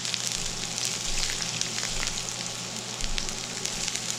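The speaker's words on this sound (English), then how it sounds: "Now oil is hot, we are going to fry the ginger." Julienned ginger shallow-fries in hot oil and ghee, giving a steady, close sizzle with small crackling pops and no voices over it.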